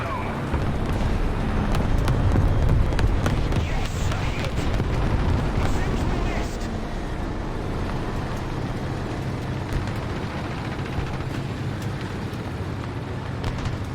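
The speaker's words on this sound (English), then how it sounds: "I can hear tanks to my left" Tanks moving nearby in a War Thunder-style ground battle with British ground forces, a low rumbling engine and track drone with scattered distant bangs, voices talking over the din.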